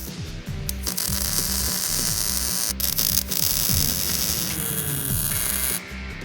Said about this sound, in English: I'm pre-drilling some holes for the plug welds.